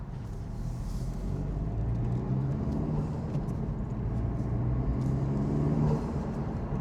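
A Honda Civic Type R turbo engine fitted with a PRL drop-in intake filter rumbles and revs steadily, with a heavy low drone that swells slightly toward the end and is heard up close without talk.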